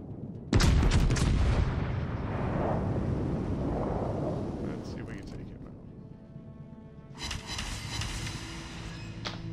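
Warship guns fire in a naval video game, opening with a sudden heavy boom followed by a long rumbling roll of distant impacts and explosions, then a fresh burst of blasts near the end.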